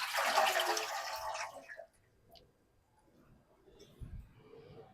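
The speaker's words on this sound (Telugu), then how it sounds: "వాటర్ పోసుకోవాలి" Water pours from a jug into a heated pan (lagan) on the stove for Hyderabadi double ka meetha, a loud gushing splash of about two seconds, followed by a quieter stretch with faint small knocks.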